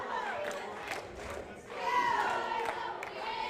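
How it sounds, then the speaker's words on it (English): Loud crowd at a high school basketball game between Texhoma and Tyrone, a continuous roar of cheering and shouting that swells midway, with a commentator's voice talking over it. "Well, with the crowd this loud,"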